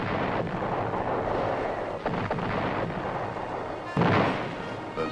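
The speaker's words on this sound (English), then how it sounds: "The North Vietnamese launch a massive artillery attack." North Vietnamese artillery barrage during the siege of Khe Sanh in archival war footage, a dense continuous roar of distant booms with a sharper blast near the end, loud and unbroken.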